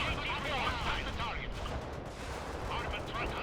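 Gunfire in the strategy game World in Conflict: Soviet Assault during a farmland battle, dense and continuous with distant artillery-like rumbles, while voices talk over it.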